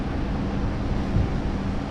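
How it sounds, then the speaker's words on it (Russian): Gusty wind rises outdoors on a dusty day, a steady, loud rushing roar buffeting the microphone throughout with no pauses. "Опять у нас ветерочек поднялся"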